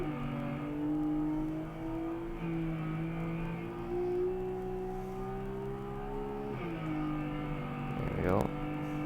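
A Porsche 911 GT3 RS on the Nürburgring, its engine droning steadily and climbing in pitch through the gears along a straight, with a sharp shift near the end, heard from inside the car with a voice talking over it.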